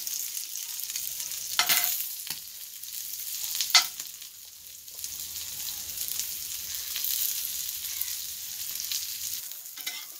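Sardine fish roast on a tawa with a steady, close crackling sizzle of hot oil throughout. A couple of sharper spatter pops come near the start, and the sizzle softens and swells slightly over time with no talk.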